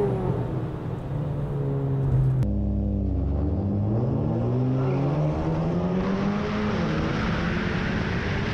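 A Honda Accord 2.0T Sport races a VW Jetta GLI with DSG gearbox, engines droning close by with a sudden shift and rising, sweeping harmonic whine as they accelerate hard side by side.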